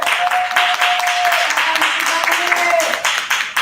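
Audience at a baby shower event applauding steadily for several seconds, a dense wash of many hands clapping, with a faint tone running through it.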